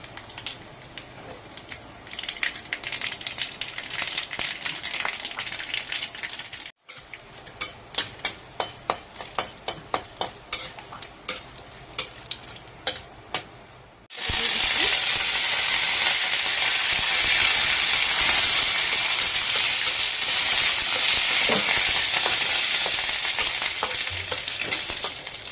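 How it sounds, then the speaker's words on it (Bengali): Dry red chillies and mustard seeds crackle in hot oil for a coconut chutney served with idli, giving a steady close sizzle with scattered pops and stirring clicks that swells into a louder, denser hiss halfway through. "এবার সে চাটনি বানানোর জন্য তেল গরম দিয়ে দিচ্ছি, শুকনো মরিচ দিয়ে দিচ্ছি"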